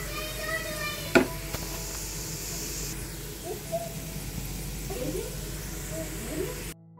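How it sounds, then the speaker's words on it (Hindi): A soft, steady sizzle of onion tempering frying in a pan, with a few faint clinks and stirring sounds. "तो मैं प्याज का तड़का लगाऊंगी इसमें।"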